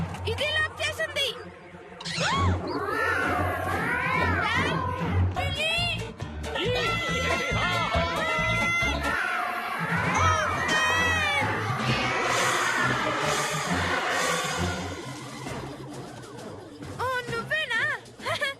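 Cartoon cats yowl and meow in bright, swooping cries layered with lively dialogue, music and crowd-like commotion from a Kid vs Cat episode, loud and busy throughout.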